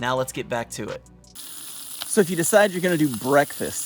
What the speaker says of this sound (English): as you can hear the sausage sizzling down here right now